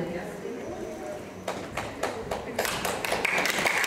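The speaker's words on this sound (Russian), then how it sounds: "Ваши аплодисменты нашим юным артистам." Applause from an audience for young performers starts up and swells, a dense wash of many hands clapping that grows louder toward the end.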